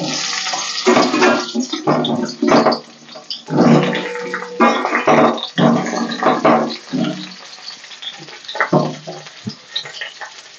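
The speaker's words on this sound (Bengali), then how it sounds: "এবার এই তেলের মধ্যে আমি দিয়ে দেবো পটল।" Sliced pointed gourd (potol) sizzling in hot oil in a home kitchen pan, loud bursts of frying crackle and hiss coming in uneven surges as the pieces are added and stirred, quieting toward the end.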